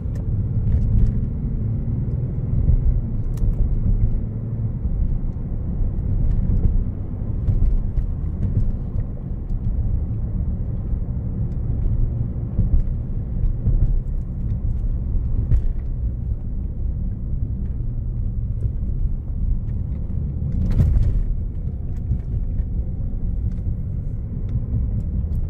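A 2017 Bentley Continental GT Speed is driven, heard from inside as a steady low engine and road rumble that stays even and quiet throughout, with no talking.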